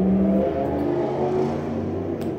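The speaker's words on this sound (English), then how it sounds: "Actually, I think that was a car." A car passes outside in spring, a low, steady engine rumble and whir that holds fairly loud and close for a couple of seconds, then eases slightly; no talking over it.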